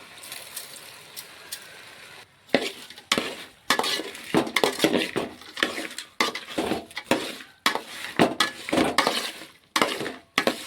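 Seafood being stirred with rock salt in a pan: repeated close scraping and clattering strokes of a utensil against the metal, coming in uneven bursts over a faint sizzle, with no speech.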